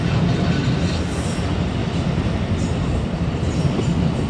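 A delayed Khyber Mail passenger train rolls into Khanewal Junction railway station, a steady loud broadband rumble of rail wheels and carriages with no let-up, no voices.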